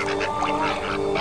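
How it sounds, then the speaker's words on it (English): Ducks and geese quacking and honking over broad outdoor ambience by a tidal river at low tide, with a steady tonal hum underneath; calls are moderately loud and repeated through the short stretch. "feeding the ducks down there"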